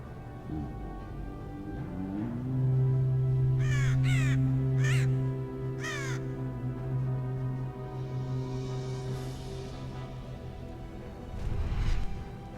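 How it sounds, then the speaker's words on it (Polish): Storm crows from the Warcraft 3 video game, a series of about four harsh caws in quick succession over a sustained droning game tone, fairly loud, followed by a whooshing swell and a final crash. "niech kruki burzy raz jeszcze poszybują z wojennym wichrem"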